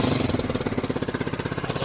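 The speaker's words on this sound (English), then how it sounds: "you press the starter and it'll turn on" A 2017 TaoTao 150cc ATV engine starts up and runs with a fast, loud, rhythmic chugging pulse, close by and steady throughout.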